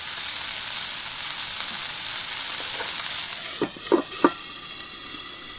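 Browned sausage sizzling steadily in a pan with a constant close hiss, then a few clunky scrapes and knocks as it is stirred near the end.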